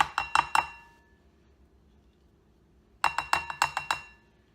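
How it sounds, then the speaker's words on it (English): A spoon knocking against a bowl while chickpea salad with vegan mayonnaise is stirred, giving two quick bursts of sharp clinks and taps about three seconds apart, with near silence between them. "Okay, now we've stirred it up."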